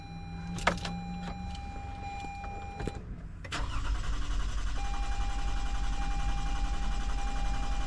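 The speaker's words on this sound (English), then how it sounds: "so it's actually a crank no start" A 2020 Toyota Sienna engine cranks without starting, a steady low mechanical churn that sets in after a few short clicks and relay ticks and runs on continuously, close and fairly loud, with no voices.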